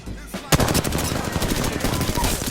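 Sustained automatic gunfire in Apex Legends, a dense, loud rattle of rapid shots that starts abruptly and continues without pause, close and intense, with no talking.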